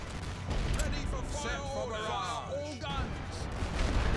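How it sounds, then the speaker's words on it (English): Rifle and artillery fire in The Great War: Western Front on a World War I battlefield: dense, continuous crackling shots and booms close and far, under a speaking voice. "I heard a lot of rifle fire"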